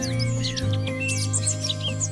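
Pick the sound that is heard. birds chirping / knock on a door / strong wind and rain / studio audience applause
birds chirping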